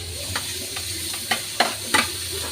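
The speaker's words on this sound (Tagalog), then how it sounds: "Lutuin lang natin itong mga sibuyas, bawang bago natin ilagay yung munggo" Onions, garlic, ginger and tomato sauté for a mung bean stew with pork bones, a steady close sizzle punctuated by several spatula scrapes and taps against the pan.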